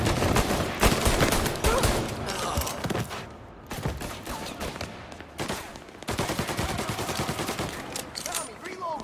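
Gunfire rattles in dense, sustained bursts in the video game Mafia Definitive Edition, with rapid automatic shots and loud cracks broken by short pauses, in a chaotic firefight with shouting voices mixed in.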